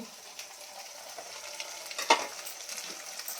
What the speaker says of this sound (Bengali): এখানে পেঁয়াজগুলো আমার মোটামুটি ভালো করে ভাজা হয়ে গেছে